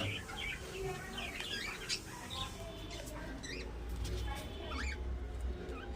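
Budgies chattering in an indoor bird breeding room, a cluster of quick high chirps and warbles at moderate distance over a steady low room hum.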